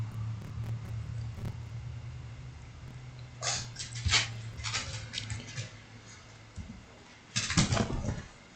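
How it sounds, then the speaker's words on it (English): A small pug whimpers indoors wanting to go outside, giving a few short high whines and yelps in brief bursts over a steady low hum, with one longer louder cluster near the end. "And the little pug wants to go outside."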